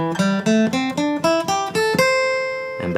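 Ascending pentatonic scale picked note by note on guitar in fifth position, about ten clear plucked notes in steady rhythm climbing in pitch, the last note ringing out before a quieter pluck at the end.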